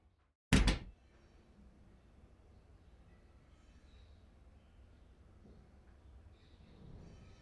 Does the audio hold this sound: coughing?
no